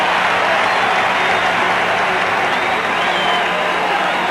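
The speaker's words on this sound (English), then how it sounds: "a wave rolls around the Metrodome" A dense stadium crowd at the indoor Metrodome roars and cheers steadily as a wave rolls around the stands during Game 7 of the 1987 World Series, a loud continuous wash of voices and applause throughout.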